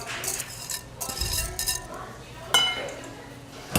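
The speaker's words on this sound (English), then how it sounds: "I'm going to whisk my wet into my dry ingredients" A whisk working wet ingredients into dry cake ingredients for an apple cake in a bowl, scraping and clinking against the bowl in uneven bursts, close and moderately loud, with brief speech in places.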